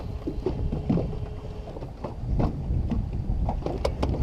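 A bass boat motor pushes across a lake in high wind near whitecaps, its engine drone buried under heavy buffeting wind noise and water slaps, loud and close throughout.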